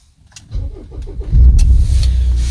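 A Volvo V60 engine starts up: a brief starter crank with clicks, then the motor catches and settles into a steady, loud idle close by.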